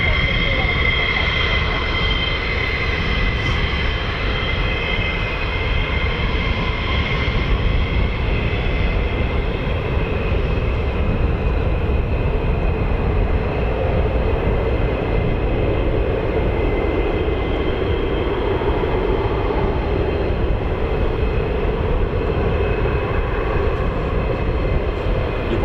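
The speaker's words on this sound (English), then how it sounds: "That engine is shut down on the left, or the aircraft's left or port side, and it will start up in a moment." An F-15 fighter jet at RAF Lakenheath with one engine running, a loud steady turbine roar and whine held throughout, with a broad rumbling base and no clear spin-up.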